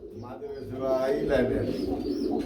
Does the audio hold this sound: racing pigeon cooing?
yes